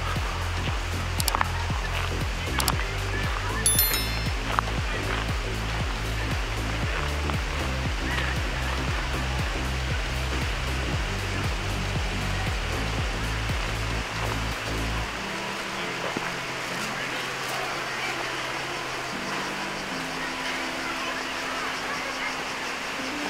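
A river flowing near a Roman aqueduct in Agios Georgios, Preveza, a steady rushing wash of water throughout, with low rumbling and some faint background voices in the first part.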